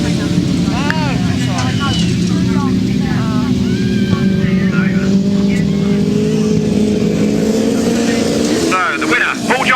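Grasstrack motorcycles race around a track at a 2007 High Easter meeting. A loud, continuous engine drone rises and falls as the bikes pass, with a public-address commentator talking throughout.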